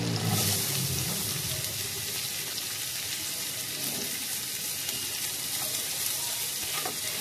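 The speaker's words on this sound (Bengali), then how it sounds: "এবার আমি দিচ্ছি পেঁয়াজগুলো।" Onions dropped into a hot pan with deseeded chillies, a loud burst of sizzling at first, then a steady frying hiss with occasional stirring scrapes, close up.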